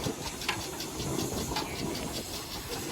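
An early barrel agricultural steam engine at a steam parade gives off a continuous broad hiss of steam with faint rhythmic chuffs beneath it, heard fairly close.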